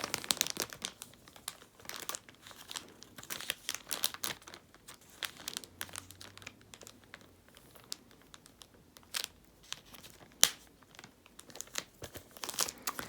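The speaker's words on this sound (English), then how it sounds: "rip this off, rip that off" Protective backing sheets are peeled and ripped off during an album protection setup, making a long run of close crinkling, crackling tears and rustles with uneven bursts throughout.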